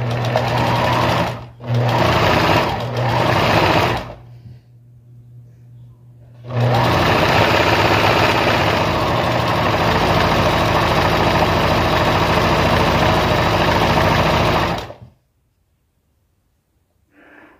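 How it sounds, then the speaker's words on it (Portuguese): A sewing machine runs in loud, steady bursts as it stitches an apron seam: several short runs at first, then a long continuous run before it stops. "Então, eu só venho e vou passar aqui a minha costura."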